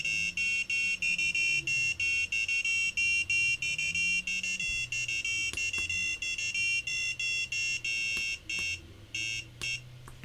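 A homemade binary clock sounds its alarm buzzer: a steady run of rapid electronic beeps, loud and close, continuing alone before breaking into shorter, uneven bursts near the end.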